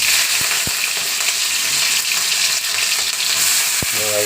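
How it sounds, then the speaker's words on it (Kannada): Green chillies frying in hot oil give a loud, steady, close sizzle with no break, and a few sharp knocks of a utensil against the pan come through near the start and end. "ಎಣ್ಣೆ ಚೆನ್ನಾಗಿ ಕಾಯಿದೆ ಹಸಿಮೆಣಸಿಗೆ ಹಾಕ್ಕೊಂಡಿದ್ದೀನಿ"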